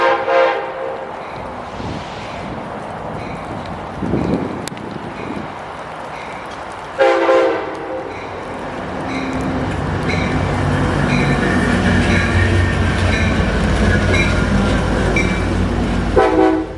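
Amtrak train at Davis station, a loud horn blast near the start, then a rising rumble of rolling railcars building steadily and close, with another brief horn sounding at the end.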